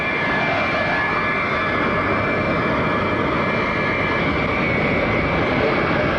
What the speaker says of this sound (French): l'avion de commandement du président Moussa Traoré prêt pour l'envol de l'aéroport international de Conakry-Bessia